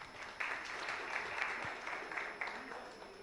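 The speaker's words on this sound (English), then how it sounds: "Can we have an applause for her?" Audience clapping at a talk on AI and supply chains in India, a steady patter of many hands held at an even level with a few louder claps, no voices over it.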